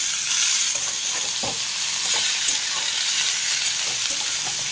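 Potatoes and vegetable stalks fry in a pan with a steady, loud sizzle while being stirred, with scraping and clinking from the stirring heard throughout and no talking.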